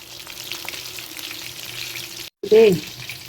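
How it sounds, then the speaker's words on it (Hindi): Masala-coated fish pieces fry in oil in a kadai, a continuous loud sizzle broken by a brief gap and then a sharp, louder burst as more pieces hit the oil. "ये देखें हमने दोबारा से डाल ली है अपनी कढ़ाई में फ़िश, और इसी को भी हम फ्राई कर लेंगे।"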